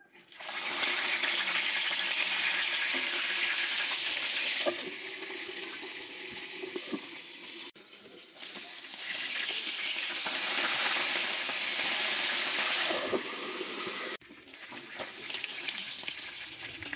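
Bisugo fish frying in hot cooking oil gives a steady, loud sizzle with brief dips and pauses, alone without talk.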